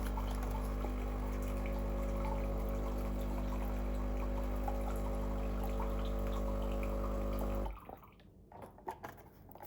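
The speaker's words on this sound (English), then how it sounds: "press the coffee button. It'll give me hot water." A Breville Barista Touch Impress espresso machine running a hot water flush, a steady pump hum with tonal whine and a trickle of water, loud and close, then stopping abruptly near the end, leaving faint clinks and drips.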